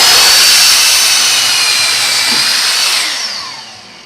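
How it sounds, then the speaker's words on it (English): A miter saw cuts through an Eastern Red Cedar 2x4 with a loud, close, steady whine that winds down as the blade spins to a stop. "And we'll divide it with miter saw."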